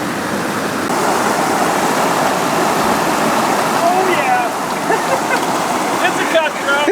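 A trout river rushes in a steady, loud broadband wash throughout, with faint bird chirps rising above it in the latter half.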